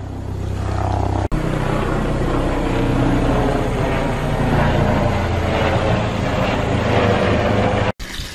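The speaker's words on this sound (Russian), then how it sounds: "Ой, какой-то вертолет где-то летит." A helicopter drones somewhere overhead outdoors, a steady rotor and engine rumble that holds at an even level, broken by two brief clicks.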